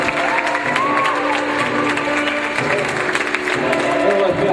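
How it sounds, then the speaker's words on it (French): An audience at a Miss Petite beauty pageant claps continuously for the candidates, a thick, even burst of applause mixed with some cheering and crowd voices. "applaudissements pour les candidats."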